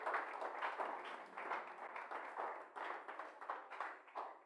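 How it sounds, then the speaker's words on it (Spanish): A church congregation applauds, a continuous wash of many hands clapping, faint and somewhat distant, with a few sharper claps standing out near the end. "dele un fuerte aplauso al Señor"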